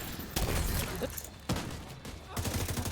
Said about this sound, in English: I shot my chem launcher at the bad guy instead of my gun